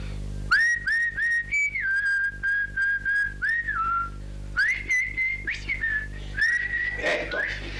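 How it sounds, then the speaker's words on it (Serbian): A man whistles a signal call up close, a string of short, clear, high-pitched phrases with small pitch bends, broken by brief pauses over a faint low hum. "Kad ja budem dolazio, ja ću da ti se javim ovakvim zviždukom."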